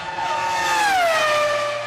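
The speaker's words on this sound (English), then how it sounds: "Watching Panasonic Toyota Racing's TF108 hurtling round a circuit" A Panasonic Toyota Racing TF108 Formula One car screams around the Chinese Grand Prix circuit. Its loud, close, high-pitched engine whine drops in pitch as it passes, with no voices.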